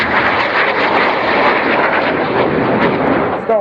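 Display jets crossing at the RIAT air show, a loud sustained broadband roar with no pauses, filling the air steadily and easing off only at the very end.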